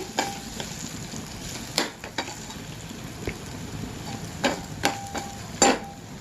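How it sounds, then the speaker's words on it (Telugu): Steady hiss of oil frying spices for tempering, with sharp pops and crackles scattered throughout, and a few clinks of a utensil against the pan. "ఒక 2 నిమిషాల సేపు దాకా ఇట్లా వేగనివ్వాలి."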